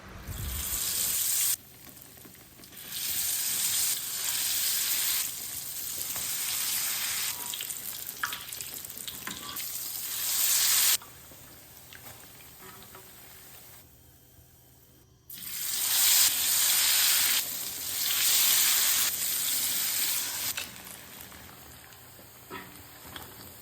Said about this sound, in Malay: Roti dah siap untuk digoreng